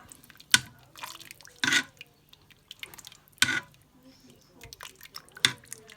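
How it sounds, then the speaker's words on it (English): A spoon stirs a thick passata-based sausage casserole sauce in a Ninja Foodi pot, giving a few short wet squelching scrapes spaced a second or two apart, close and fairly quiet. "Now we're just going to stir that round a bit."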